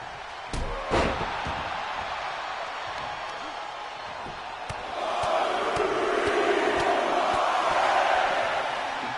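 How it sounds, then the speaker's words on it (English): Crowd noise from the WWE 2K25 video game, an arena roar that swells in the second half, punctuated by sharp slams and thuds early on, with commentary-like talk mixed in. "You can turn the crowd noise off."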